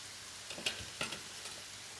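Food browning in a frying pan while a quiche with spinach and grilled swordfish with vegetables are being prepared, giving a faint, steady sizzle with a few soft stirring scrapes and clinks.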